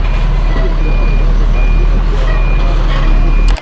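A bus stuck on a road at the Valley of the Kings in Luxor, Egypt sounds steady loud reversing beeps over a constant heavy engine rumble that stays near and continuous before cutting off abruptly.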